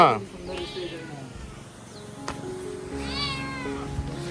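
A cat meows twice, a short call near the start and a longer drawn-out meow near the end, amid outdoor background noise in a Konkan village during the monsoon and a distant voice.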